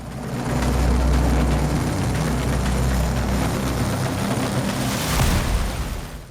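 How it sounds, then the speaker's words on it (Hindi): A helicopter with a technical fault wobbles in the air about 100 metres from the Kedarnath helipad in Uttarakhand, its engine and rotors a loud, steady, deep roar that swells briefly near the end. "तस्वीरें उत्तराखंड के केदारनाथ की हैं, जहां आज एक हेलीकॉप्टर क्रैश होते होते बचा।"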